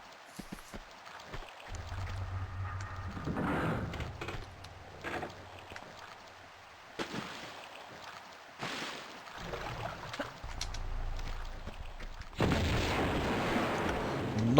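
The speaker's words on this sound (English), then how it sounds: "Not sure the grenade launcher was warranted here, but that worked." Grenade launcher explosions in a video game come as several booming blasts with low rumbling tails, spread irregularly among mechanical game noises, ending in a loud final burst.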